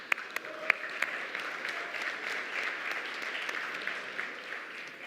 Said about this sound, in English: everyone in this room deserves a round of applause for that